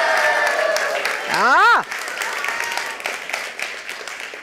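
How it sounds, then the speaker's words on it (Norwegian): A school crowd of children at the Bokslukerprisen book award ceremony cheers and claps loudly, with a shrill rising and falling whistle or squeal cutting through midway and a single shouted exclamation, while the applause carries on steadily to the end. "Så hvis alle bare kan juble så høyt de kan for Bokslukerprisen"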